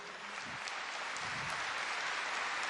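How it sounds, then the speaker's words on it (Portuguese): A church congregation applauding during a Catholic service, a steady wash of many hands clapping together, fairly loud and continuous throughout, with no speech on top. "pode aplaudir."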